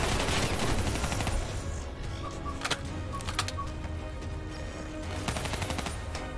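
Rapid bursts of gunfire in Call of Duty: Black Ops 3 crackle over a dense, busy mix of effects and music, with sharp louder shots standing out near the middle and end.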